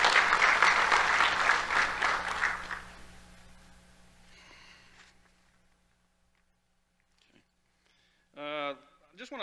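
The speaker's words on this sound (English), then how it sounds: "Let's give Lisa a round of applause." Audience applause at a live Miss and Junior Miss Cherokee competition: loud clapping for a few seconds that tapers off into quiet, then a speaker's voice returns near the end.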